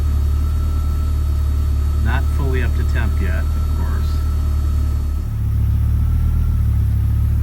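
An Audi UrS4 with a rich-running fault idles steadily before fully warmed up, a low constant engine hum with a brief dip and change in tone near the end, heard under someone speaking.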